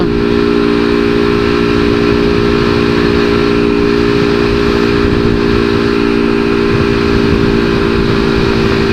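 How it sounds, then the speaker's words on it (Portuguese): Strong wind buffeting a rider on a moving motorcycle in traffic, a loud continuous roar with a steady engine drone beneath, no voices. "Só dá pra sentir na moto mesmo o vento."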